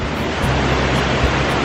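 Kent Falls, a Connecticut waterfall, pours in a dense, steady roar of rushing water heard up close, broadband and unbroken, like heavy surf.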